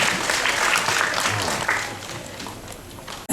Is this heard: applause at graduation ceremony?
yes